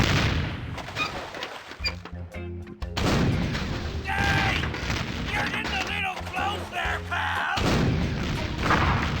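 A cannon fires in The Curse of Monkey Island adventure game, a sharp booming blast amid the game's background sound, with character voices talking around it.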